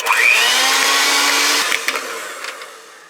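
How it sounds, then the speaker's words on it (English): An electric mixer beats eggs into cake donut batter, a loud steady motor whine that holds, then winds down and sputters with a few clinks near the end. "now we're going to add our eggs, one at a time, and beat them in"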